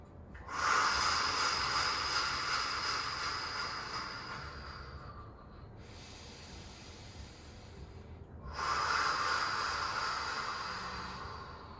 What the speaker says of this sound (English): Breathing all the way in.